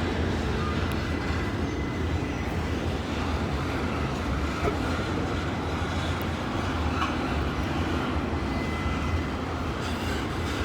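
A train rolls past at a steady pace, a continuous low rumble and clatter of rail cars holding an even level the whole time.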